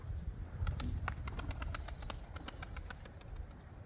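A rock pigeon comes down to land on a coop roof, its wings clapping in a quick run of sharp flaps, close and fairly quiet against a low background hum.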